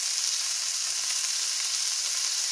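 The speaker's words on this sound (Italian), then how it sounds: "tipico rumore della padella che è bella calda" A steak sizzles in a very hot frying pan with a dense, even hiss and spatter, loud and close, holding steady from start to finish.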